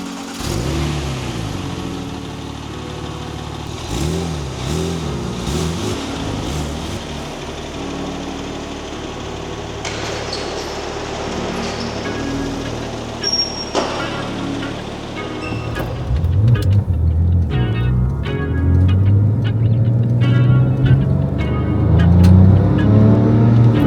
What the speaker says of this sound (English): Turbo sounds